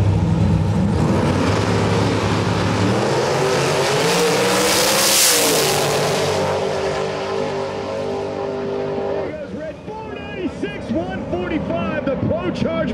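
A turbocharged drag radial race car launches and accelerates hard down the drag strip, a loud roaring engine with rising pitch that fades into the distance, with crowd noise and a commentator's voice following.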